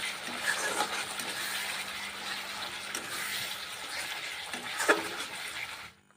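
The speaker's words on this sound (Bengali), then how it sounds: "এরপর জিরে গুঁড়ো ধনিয়া গুঁড়ো দিয়ে এই মশলাগুলোকেও ভালো করে ভেজে নিতে হবে" Ground cumin and coriander powder fry in a pan for a Bengali cauliflower and potato fish curry, giving a steady, moderate sizzle and hiss with a few faint scrapes before it cuts out.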